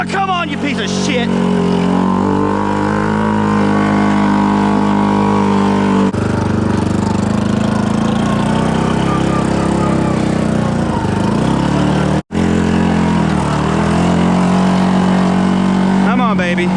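A brand-new motor in a Honda 6x6 four-wheeler runs loud and close, revving unevenly with a harsh drone and briefly cutting out near the end before catching again.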